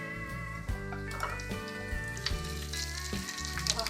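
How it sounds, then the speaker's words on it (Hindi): Boiled meat fries with browned onions in oil in a pan for Kabuli pulao, a steady close sizzle with occasional stirring scrapes and clunks under faint background music. "अब हम इसके अंदर अपना मीट ऐड कर लेंगे जो हमने बॉईल कर लिया था और इसको थोड़ा सा फ्राई करेंगे।"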